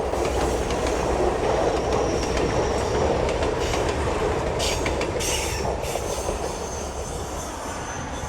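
A passenger train rolls along a scenic railway near Anchorage, Alaska, with a loud continuous rumble of wheels on track, rhythmic clatter and brief high wheel squeals, heard from inside or close by.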